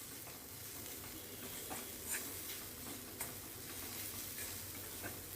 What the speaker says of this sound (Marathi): हा कांदा आपण असा परतून घ्यायचा आहे थोडासा